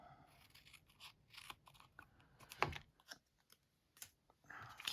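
Scissors trimming pieces of paper card, a run of small crisp snips and crunchy cuts in an uneven rhythm, close and quiet with short pauses and no voices.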